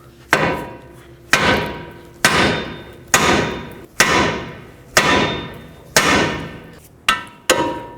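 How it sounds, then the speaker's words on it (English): Eight hard metallic hammer blows ring out on a 2007-2009 Saturn Aura steering knuckle, each sharp clang followed by a short ringing decay, close and loud with no talking. "take your hammer and hammer on the knuckle"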